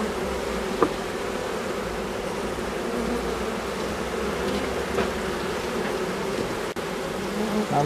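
Buckfast honeybees swarm around an open hive during autumn colony preparation, their steady, dense drone holding at an even level throughout with a few brief knocks and handling noises.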